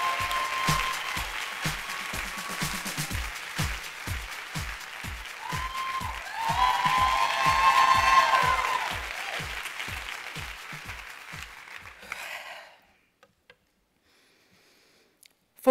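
Steady rhythmic applause from an event audience greets a speaker, even claps with a swell in the middle before fading out into near silence at the end.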